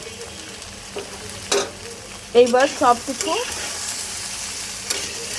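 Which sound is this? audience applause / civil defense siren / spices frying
spices frying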